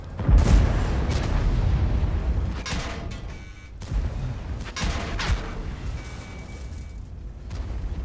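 In World of Tanks, heavy cannon shots and booms fire in a rapid cluster at the start, with more blasts after a few seconds over a low rumble.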